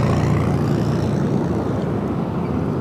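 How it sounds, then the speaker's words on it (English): A Singapore Airlines Boeing 777-300ER arriving from Tokyo Narita rumbles steadily at Los Angeles airport on the north side, a loud broadband jet roar that stays constant throughout with no talk. "Singapore Airlines, the 777-300ER coming in from Tokyo Narita, arriving on the north side"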